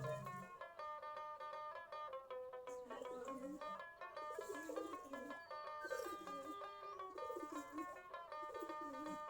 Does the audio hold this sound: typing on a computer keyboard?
no